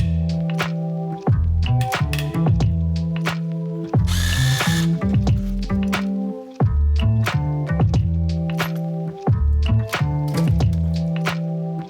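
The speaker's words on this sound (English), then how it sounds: "we can then unbolt the cylinder head and separate it from the block" A power tool loosens the cylinder head bolts on a Toyota 4AGE 20V engine from an AW11 MR2, firing in loud, close, repeated bursts with short pauses and clicks between them.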